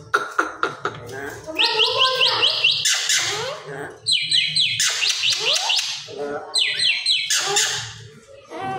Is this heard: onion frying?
no